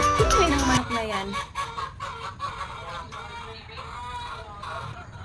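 Chickens cluck on a Filipino guava farm, a burst of loud fowl calls at the start fading into scattered softer clucks and background rustle.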